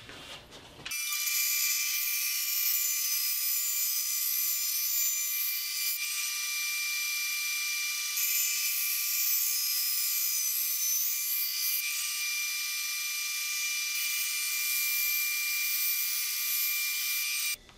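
A band saw slicing thin maple binding strips, a steady high whine running continuously for most of the stretch after starting abruptly, moderately loud and close.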